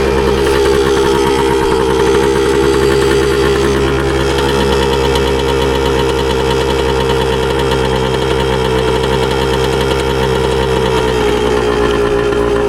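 A 1981 Suzuki DS100 motorcycle engine idles steadily and close by, with a dense, continuous mechanical drone and a faint knocking pulse that holds even throughout, no voices over it.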